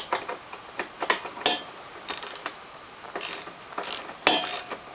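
A hand ratchet backing out an 8mm bolt on a Honda Shadow motorcycle: short bursts of rapid clicking with pauses between strokes, close up and alone.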